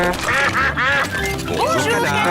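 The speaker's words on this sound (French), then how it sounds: "Bonjour, canard." A cartoon duck from Peppa Pig quacks in a rapid string of loud, close, voiced quacks during a bike ride outing, continuous through the whole stretch.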